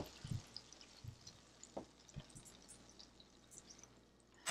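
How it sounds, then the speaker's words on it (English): Parmesan garlic crusted pork chops sizzling in a pan, faint and quiet, with scattered pops and crackles and small clicks over a low background hiss, and no talking. "they're sizzling"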